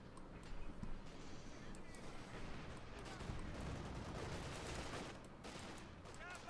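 Dense gunfire and machine-gun bursts roll on continuously in Company of Heroes 2, mixed with distant explosions. The battle noise is faint and sits under an indistinct voice.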